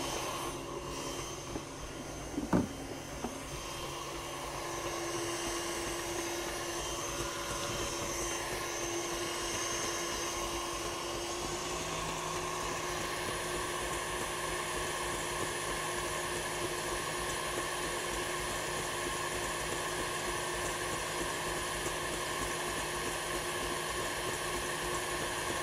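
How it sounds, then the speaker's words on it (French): An electric hand mixer whirs steadily through cake batter in a kitchen, a continuous, fairly quiet motor hum that holds for the whole stretch after one brief clack near the start, with no talking. "je peux accélérer le batteur et je laisse battre jusqu'à complet refroidissement"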